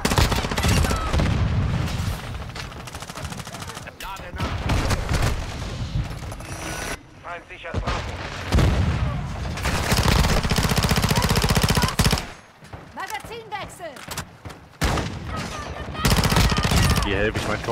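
Rapid automatic gunfire in Call of Duty multiplayer, dense sustained bursts with booms and brief pauses, loud and close, continuing almost without break.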